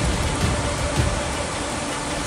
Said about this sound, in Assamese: মেঘালয়ত মুখলধাৰ বৰষুণ